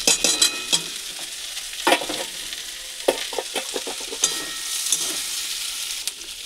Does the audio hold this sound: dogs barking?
no